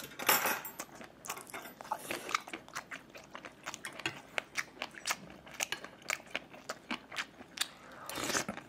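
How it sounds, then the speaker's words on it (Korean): Someone eats spicy kimbap alongside ramen in an anchovy-broth soup, with a run of close, crisp bites and crunchy chewing, plus an occasional light clink of a utensil, in a quiet room without talk. "본격적으로 먹어봅니다"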